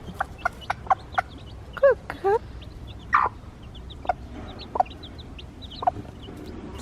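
Mother hen clucking to her chicks in a backyard flock, a series of short, fairly near clucks spaced irregularly, with a few longer rising calls in the middle and a brief spoken remark.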